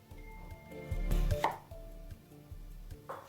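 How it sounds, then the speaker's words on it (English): A knife chops an onion into quarters on a cutting board for tamarind prawn, a few firm close cuts in quick succession with no talking. "Cut the onion in half and cut it to quarter size."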